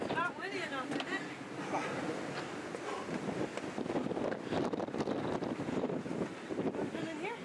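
Wind gusts across the catwalk of the Custer Peak Fire Lookout Tower in South Dakota's Black Hills, a steady broadband rush and buffeting on the microphone that runs the whole time while people talk nearby.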